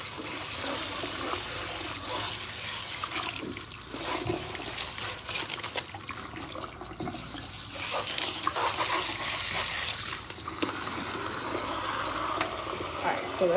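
Water running steadily from a tap as combs are rinsed under it, a continuous close gushing splash with slight shifts in tone as things move through the stream.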